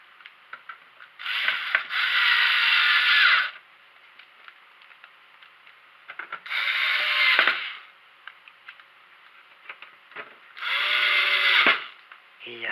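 Electric screwdriver driving the remaining screws into the metal plate of an original PS4 console during maintenance, three separate whirring bursts of about two seconds each, close and fairly loud, with small clicks and handling noises between them.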